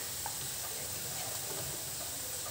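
Onions sizzle and fry in a pan while a bitter gourd vegetable dish is cooked, giving a steady, soft, close hiss with faint stirring ticks and no talking.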